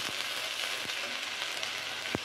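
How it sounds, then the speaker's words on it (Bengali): Onion frying in oil with garlic paste just added, a steady soft sizzle running throughout with a few faint utensil clicks, moderately quiet and with no voices. "পেঁয়াজটা একটু ভালো করে ভাজবো। দিয়ে দিচ্ছি রসুন বাটা"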